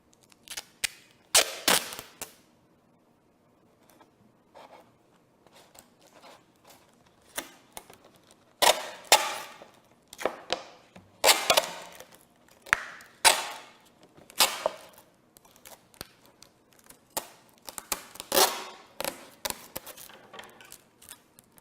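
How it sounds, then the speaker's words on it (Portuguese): Insulating adhesive tape is pulled and stuck onto the nose of a model rocket, giving sharp, crackling rips and short tearing bursts in an irregular rhythm, close up and loud against a quiet background. "Vou colocar aqui uma fita isolante"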